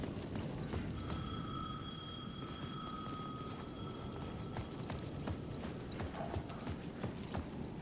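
An old-style telephone bell rings in steady tones over heavy clip-clopping hooves and dense ambient noise in the video game Alan Wake 2.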